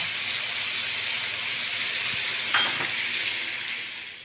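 Sea bass and squid cook in a hot pan or oven dish, giving a steady soft sizzle and hiss with one brief sharper crackle partway through, fading slightly at the end.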